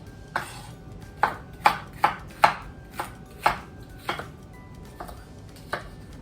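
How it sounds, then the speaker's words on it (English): A knife chops peppers, including jalapeños and sweet peppers, into pieces on a cutting board, about a dozen crisp, close taps in an uneven rhythm with no voices. "I'm just chopping into pieces probably about that big."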